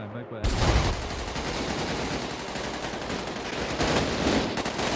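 Sustained automatic gunfire in GTA 5 during a street fight between medieval knights and police, loud and dense bursts running almost continuously after a brief quiet opening.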